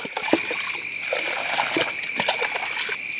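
About ten millilitres of Spredol spreader glue poured into water while mixing a fungicide spray for nutmeg trees: steady close sloshing and light splashing with small scattered splatters throughout, no voices.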